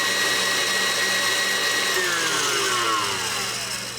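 An electric kitchen mixer whirs steadily while beating egg yolks and lemon juice for a lemon ice box pie: a close, continuous motor whine whose pitch sags and slows toward the end.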